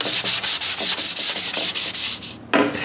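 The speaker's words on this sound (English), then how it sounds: "Then I give it a light sanding everywhere else." Rhythmic back-and-forth light sanding strokes on a walnut clock frame, about a dozen quick even rasps close up, then a brief pause and one more stroke.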